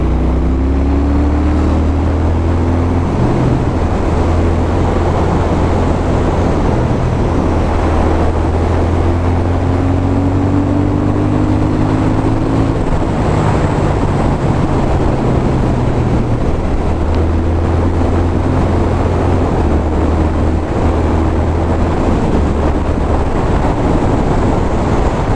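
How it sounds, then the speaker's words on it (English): A Triumph Thruxton R motorcycle rides under a bridge, its low engine note rising and falling in quick throttle swells over a constant roar of wind and road noise. "Obligatory biker blip under the bridge."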